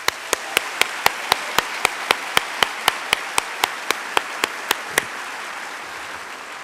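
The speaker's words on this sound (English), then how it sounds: "Please give them a round of applause." Applause at a 2013 CSULB university convocation, heard as a sparse, evenly spaced run of sharp single claps, roughly three per second, over a soft room murmur that stops near the end.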